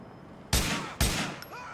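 An AK assault rifle fires in Grand Theft Auto IV, two loud, sharp shots about half a second apart, each trailing off, then a faint click.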